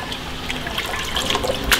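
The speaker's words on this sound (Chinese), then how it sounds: "用清水清洗一下， 鱼片清洗一下捞出来，沥干水分。" Grass carp slices are rinsed by hand in clean water in a home kitchen, giving a steady close-up swish and trickle of water throughout with a brief louder splash near the end.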